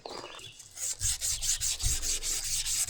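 Abrasive grit paper rubs back and forth on the barrel of a hydraulic cylinder from a Mahindra Max 26 XL loader, giving a steady rhythmic rasping of repeated strokes, close and alone.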